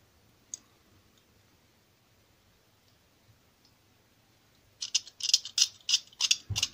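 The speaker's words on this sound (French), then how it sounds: "je vais couper cette ligne-là pour revenir au niveau de celle-là avec mon cutter" A utility knife cuts into a resin chainsaw axe with a burst of sharp, rapid clicking and scraping strokes near the end, close and crisp, after a mostly quiet stretch with one faint tick.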